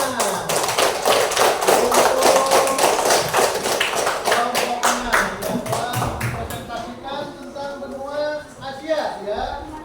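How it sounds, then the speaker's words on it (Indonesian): Clapping at a school class presentation rings out after closing greetings, a dense patter of many hands that thins and fades over the clip as talk rises beneath it. "Tepuk tangan."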